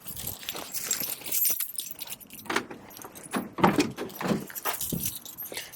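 Car keys jingle and clink in several metallic bursts, close by, with light handling noises and no talking.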